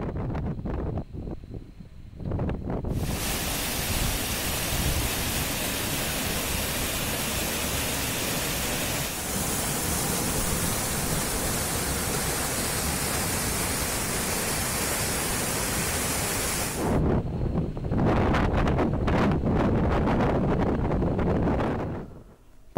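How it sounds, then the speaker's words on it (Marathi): Waterfall at Chikhaldara plunging from a height of 2000 feet in the monsoon hills, a steady loud broadband roar of falling water filling the scene, with a brief shift partway through and rougher gusty noise near the end. "2000 फुटांवरनं वाहणारा हा धबधबा पर्यटकांना आकर्षित करतोय"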